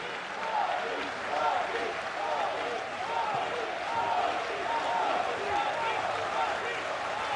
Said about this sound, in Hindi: आप सभी अपने स्थान पे खड़े होकर तालियों के साथ उनका स्वागत करें।